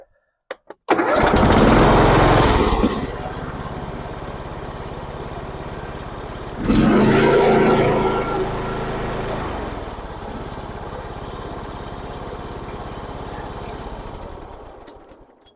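A Cub Cadet riding lawn mower engine cranks and roars to life, cuts out, then starts again and settles into a steady, close running drone with no talking over it.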